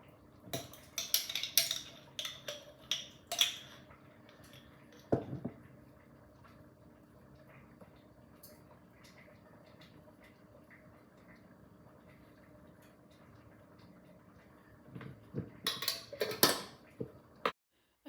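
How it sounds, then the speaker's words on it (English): Sped-up knife chopping onions on a board in a home kitchen: quick clusters of sharp taps at the start and again near the end, with a long quiet stretch of faint background between. "We've all had enough onion chopping over the weekend, so I've just sped this up again."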